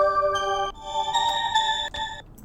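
A bright synth pluck melody in a dark trap production plays at half speed as a polymeter, with clean, sustained harmonic notes stepping through a short phrase, heard alone.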